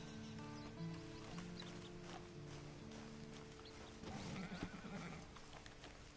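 In Red Dead Redemption Online, a horse whinnies loudly, followed by hooves clip-clopping, set against a constant humming background with a faint musical drone.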